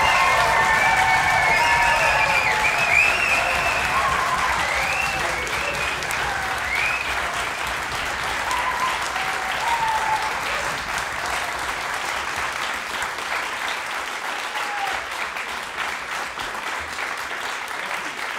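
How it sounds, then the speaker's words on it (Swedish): Studio audience gives a warm welcome to a guest on a Swedish talk show in Arvika, with sustained loud applause and some cheering that holds steady and then slowly eases toward the end. "Det var en ganska bra applåd"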